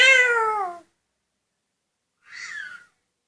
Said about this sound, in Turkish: evde değişik bir kedi var